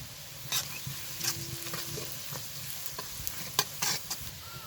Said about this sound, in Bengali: পেঁয়াজটা হালকা করে আমি ভেজে নেব তো বন্ধুরা পেঁয়াজটা হালকা করে ভেজে নিয়েছি